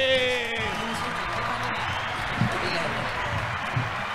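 A live audience applauds a band at a show, with broad, steady clapping and crowd noise rising after a brief voice and continuing for several seconds.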